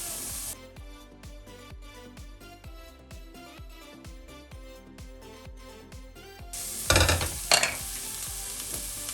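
Chopped spring onions and a chopped onion frying in a pan, steady sizzle under a regular rhythm of tapping or stirring strokes, then a louder burst of hissing and crackling near the end.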